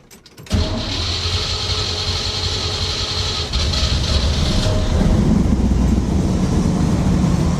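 A Chevy Nova V8 engine is restarted after being shut off; it cranks briefly, catches, and settles into a loud, steady rumbling idle that grows slightly fuller near the end.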